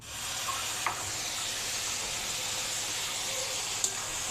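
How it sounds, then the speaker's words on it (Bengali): Pumpkin frying in a pan with onion and chili gives a steady, close sizzling hiss throughout, with one or two faint clicks from the pan. "পেঁয়াজ মরিচ ভেজে নিয়ে কুমড়াটা এখন ভেজে নিচ্ছি"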